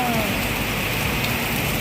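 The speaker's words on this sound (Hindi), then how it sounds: "बारिश बहुत तेज़ है" Heavy rain pours down steadily during a monsoon Teej festival, a dense continuous hiss of drops striking surfaces that holds even and loud from start to finish, with faint voices mixed in.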